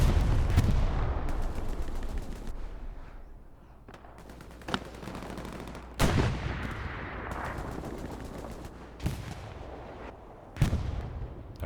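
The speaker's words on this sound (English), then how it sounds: "Artillery continues to fall around." Artillery shells fall across a battlefield in the World War II shooter Hell Let Loose, heavy booming impacts landing every few seconds over a continuous rumble of distant gunfire and roar.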